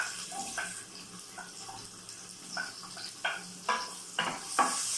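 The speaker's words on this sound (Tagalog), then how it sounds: "Gigisan natin hanggang sa lumambot yung ating onion." Onion sautéing in hot cooking oil in a pan for pinakbet, a soft steady sizzle broken by scraping stirs of a utensil against the pan that come louder and more often toward the end.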